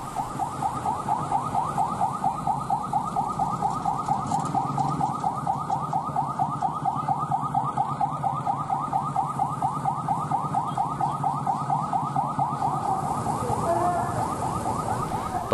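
A fire truck siren sweeping through a port, market area and shopping streets in Merauke: a loud, rapidly warbling wail that repeats steadily for the whole stretch.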